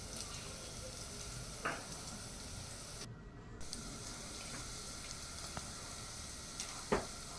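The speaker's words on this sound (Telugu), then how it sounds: "ఇప్పుడు వాటిని మంచిగా ఫ్రై చేసుకోండి, పచ్చి వాసన పోయేంత వరకు." Ginger paste frying in hot oil in a pan, a steady close sizzle with a few sharp clinks of a utensil against the pan.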